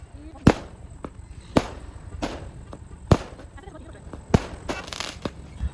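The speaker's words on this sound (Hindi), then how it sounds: "बीच रास्ते में ही किसी ने पटाखे लगा दिए थे" Firecrackers set off by the roadside on a route to Hyderabad, five or six sharp loud bangs at irregular intervals with crackling between them and a steady background hum.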